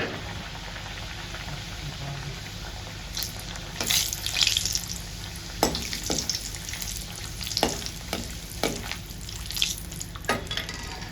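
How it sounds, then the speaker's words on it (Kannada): Puri deep-frying in hot oil, a constant hiss of oil with bursts of louder crackling and splutter each time dough hits or is turned, close by. "ಪೂರಿ ಬಿಟ್ಟು ನೋಡಿ ಎಣ್ಣೆ ಬಿಸಿ ಆಗಿದೆ."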